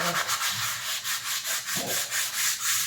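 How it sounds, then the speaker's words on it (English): Spackle is sanded by hand on a bedroom wall in a steady series of close, rhythmic rubbing strokes, roughly ten back-and-forth passes with no talk. "So we're gonna have to just sand and spackle"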